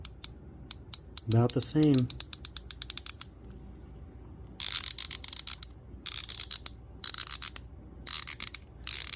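Duratech 90t teardrop ratchet freewheeling, giving rapid clicking bursts of gear noise in several runs, close and crisp, with a brief spoken remark early on.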